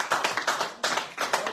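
Applause for a man at a bistro radio show, a burst of hand clapping in uneven pulses that breaks off briefly and resumes, close and fairly loud with no talk over it.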